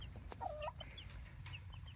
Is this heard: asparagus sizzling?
no